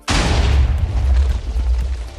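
A cannon firing in the Minecraft video game, one sudden loud boom with a deep rumbling tail that lingers for about two seconds.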